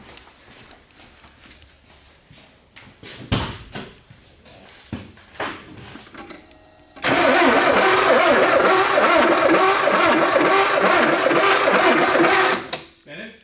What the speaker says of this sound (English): let's try to turn it over and see what happens